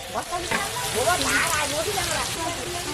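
Panch phoron five-spice seeds sizzle and crackle in hot oil for a Bengali shukto curry, a bright continuous frying hiss heard close beneath a voice talking over it.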